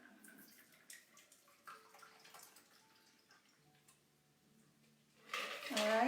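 A cocktail is poured into a glass, with soft dripping and clinks at first, then a louder, steady splashing pour building toward the end, close and otherwise quiet.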